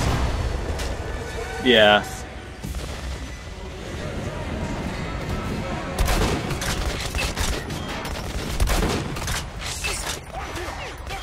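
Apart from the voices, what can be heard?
gunfire at a tank in video game Metro Last Light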